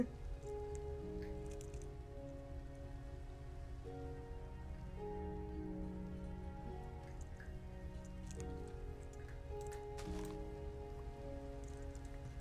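Rain in the video game Minecraft, a steady, dense patter of drops falling continuously over a sustained tonal background, with no voices.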